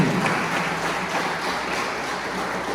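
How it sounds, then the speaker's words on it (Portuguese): Church congregation applauding during a worship service, a dense, even wash of clapping from a crowd that holds steady throughout. "Aplauda Jesus, amém?"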